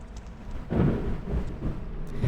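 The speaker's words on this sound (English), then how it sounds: "Man, it is really thundering outside." Low rumbling thunder from a storm in the Fatal Frame: Mask of the Lunar Eclipse game, swelling into a louder roll partway through and lingering as a steady, mid-distance rumble.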